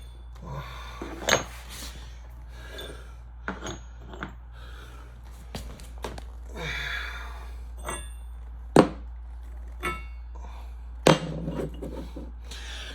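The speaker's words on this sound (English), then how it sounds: "The next piece of hardware we have to remove is our lock washers. So we're going to go ahead and just simply pull these off." Metal lock washers are pulled off a 131 RE rail joint display in a string of irregular sharp metallic clanks and knocks, close and distinct, spaced by quieter handling sounds over a low steady hum.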